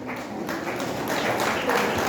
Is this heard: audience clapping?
yes